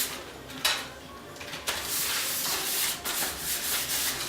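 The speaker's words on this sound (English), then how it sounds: "I'm using the papers from the margarine that I'm going to be using in a cake. So just grease it really good." Margarine wrapper paper rubs and scrapes around the inside of a cake pan, a dry papery swishing with a couple of sharper contacts early on, then steady close rubbing strokes.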